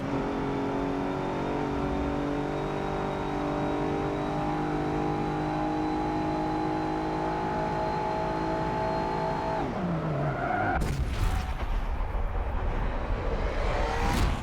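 A modern off-road race vehicle in Forza Motorsport 7 at full throttle: a loud, steady engine drone held for about ten seconds, then the pitch drops and it roars again, with no voices.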